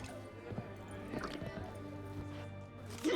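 A horse in The Witcher 3 video game clip-clops with steady hoofbeats and gives a short whinny near the end, beneath quiet ambient game sound and faint voices.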